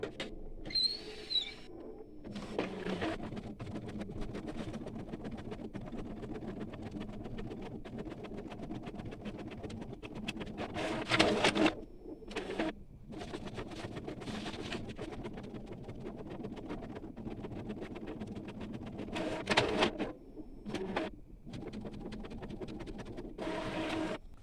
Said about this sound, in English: Okay, the printer is printing now.